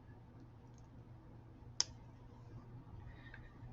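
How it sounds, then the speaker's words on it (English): A single sharp snip of cutters trimming excess jewelry wire after a crimp tube is closed. It is brief and close against a quiet room hum. "Let's cut off our excess wire here."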